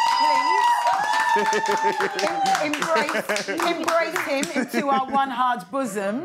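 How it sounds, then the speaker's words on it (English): Studio audience clapping in scattered bursts that build and fade, heard under a presenter speaking over them throughout. "Can we clap for him?"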